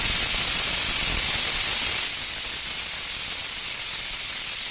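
A pressure cooker cooking corn on the cob releases a loud, continuous, close steam hiss that holds steady and eases slightly partway through, with no talking.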